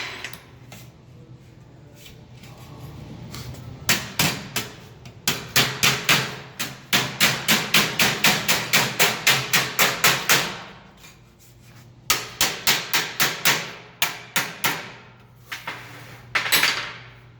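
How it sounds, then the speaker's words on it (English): Sharp metallic hammer blows on sheet metal over a dolly ring out in rapid bursts, dozens of strikes in quick rhythmic runs separated by short pauses, close and loud over a low hum. "Made that post all so I can hammer on this thing."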